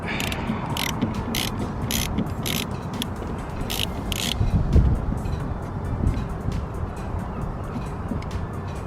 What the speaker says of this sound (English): I've got a 13mm socket